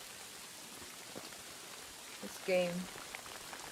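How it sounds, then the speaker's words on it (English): Rain falls steadily in Kingdom Come Deliverance 2 as a soft, even hiss, with someone speaking briefly over it. "Oh, it starts raining when I'm looking for crayfish."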